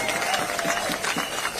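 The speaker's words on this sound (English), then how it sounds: "Give yourselves a round of applause for marching down here" Marchers at an outdoor Free DC rally in the heat applaud themselves, a steady wash of crowd clapping and cheering holding level through the short stretch.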